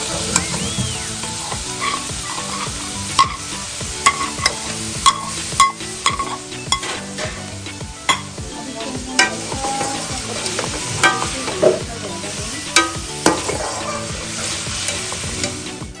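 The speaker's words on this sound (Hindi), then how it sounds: "यहाँ पे टमाटर के साथ ही हम लोग यहाँ पे ऐड कर देंगे हमारा फ्राई किया हुआ चिकन" Tomatoes, fried chicken and capsicum sizzle in a pan for pasta, with a steady frying hiss broken by repeated clanks and scrapes of stirring throughout, close and fairly loud with no talking.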